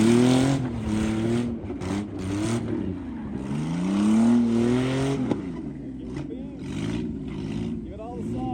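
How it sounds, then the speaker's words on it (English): A party truck driven hard, its engine revving and surging through rising and falling pitch sweeps, fairly close, with someone talking over parts of it. "this was me getting to drive the party truck"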